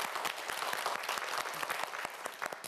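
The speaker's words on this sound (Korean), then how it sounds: "박성준 학생에게도 박수 한번 보내주세요" Studio audience on a televised quiz show clapping for a student contestant, a lively burst of close, crisp hand claps with distinct individual slaps, no talking over it.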